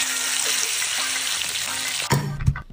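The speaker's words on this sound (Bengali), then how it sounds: "তুমি এবার আমাকে তেলে ফ্রাই করবে।" Food fries in oil with a loud, dense, even hiss for about two seconds, then a brief clatter and thump cut it off near the end.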